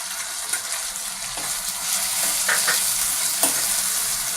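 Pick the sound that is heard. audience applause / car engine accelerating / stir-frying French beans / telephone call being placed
stir-frying French beans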